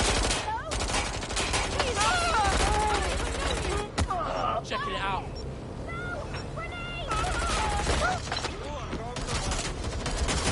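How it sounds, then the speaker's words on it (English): Sustained gunfire in the video game Watch Dogs: Legion, loud rapid bursts and volleys running through most of the stretch, with someone talking over it and game character voices mixed in. "We've got gunfire."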